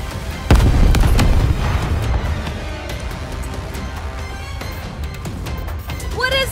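Anti-aircraft guns firing in the NIKKE Goddess of Victory game, a loud dense barrage of booming and crackling shots that opens with a heavy blast and rumbles on steadily, then fades under a rising electronic tone at the end.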